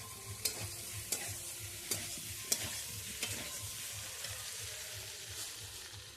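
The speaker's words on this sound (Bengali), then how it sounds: "চিংড়ি মাছ আর টমেটোটা দিয়ে দেবো, দিয়ে আবার ভালো করে কষিয়ে নেব।" Green jackfruit being stir-fried with prawns and tomato in a village kitchen, a steady soft sizzle with repeated scraping knocks of the spatula against the pan every second or so, moderately quiet with no talk.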